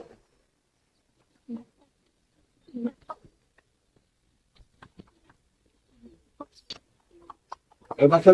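Scattered soft clucks from chickens nearby, brief and irregular in a quiet setting, with a louder burst of clucking at the end.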